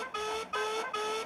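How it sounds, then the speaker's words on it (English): A Thomas the Tank Engine wooden railway toy train gives three short, clear whistle toots in an even rhythm, each a bright steady tone with a brief gap between, close and alone. "Thomas got ready with his whistle."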